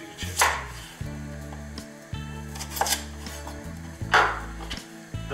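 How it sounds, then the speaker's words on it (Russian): Knife chopping through onion and carrot on a board, a few sharp cuts standing out over a steady low hum of background music. "Разрезаем луковицу напополам. И разрезаем одну морковку на 4 части."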